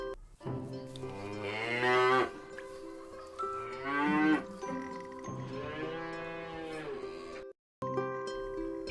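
A cow moos loudly several times in succession, each long, drawn-out low call following closely on the last with a brief silent gap near the end, against a steady background tone.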